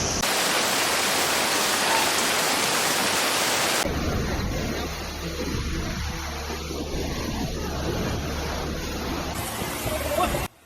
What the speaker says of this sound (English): Torrential rains have battered Sichuan, Chongqing, and Yunnan, turning streets into rivers and mountainsides into landslides.